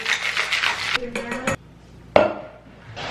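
A cocktail shaken hard in a metal shaker, with rapid rhythmic rattling of ice for about a second and a half. After a quiet pause comes a single close metallic clink.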